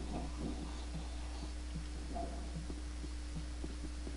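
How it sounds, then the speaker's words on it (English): Heartbeat in the horror video game Afraid of Monsters: slow, regular paired thumps repeat steadily over a constant low hum, with no talk. "And I hear a heartbeat."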